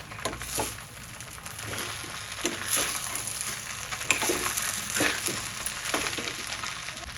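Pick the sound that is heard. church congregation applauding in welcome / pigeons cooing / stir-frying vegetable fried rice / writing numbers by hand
stir-frying vegetable fried rice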